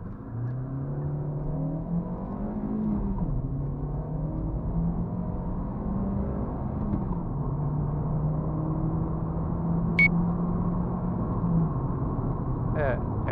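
A car pulls away from a standstill at 2,000 RPM on a cold day, its engine droning and rising steadily in pitch through the gears, heard from inside the cabin with brief faint beeps.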